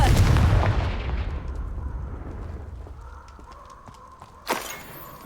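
A Confringo fire spell explosion from Hogwarts Legacy booms loudly at the start, then a long rumbling decay fades out, followed by a brief sharp crack near the end.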